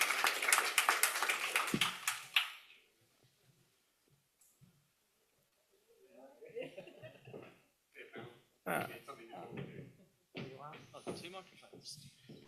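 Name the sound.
audience applauding the conference panelists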